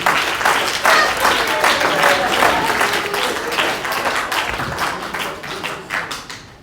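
A round of applause from wedding guests during the speeches, loud and dense clapping that holds steady before tapering off toward the end.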